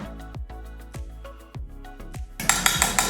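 Three eggs are cracked against a bowl, making a run of sharp clinks and taps in an uneven rhythm, followed by a brief burst of brighter, noisier clatter at the end.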